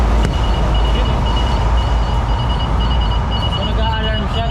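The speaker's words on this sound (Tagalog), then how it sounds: "pakita mo nga sa amin kung paano siya nag-a-alarm" Anti-theft alarm of a Honda e-bike sounding loud and continuous, a steady repeating electronic tone pattern held throughout at close range with no voices over it.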